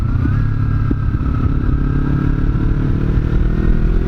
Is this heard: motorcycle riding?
yes